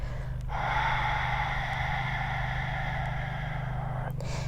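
A deep, slow exhale during a seated chair yoga breathing exercise: one long, steady, breathy rush of air lasting several seconds, close and clear over a low steady hum, ending with a short soft breath noise.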